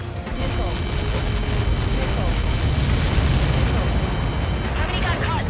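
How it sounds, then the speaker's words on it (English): A massive explosion in the combat flight game Ace Combat 7, a loud sustained roaring rumble that fills the whole stretch with dense low-end noise, with radio voices faintly underneath. "How many got caught in that explosion?"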